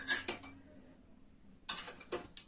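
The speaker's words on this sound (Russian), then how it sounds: "посудомойку собираю" Dishes and cutlery clatter in short, sharp bursts while a dishwasher is loaded at home, a few clinks near the start and another cluster later, with quiet gaps in between.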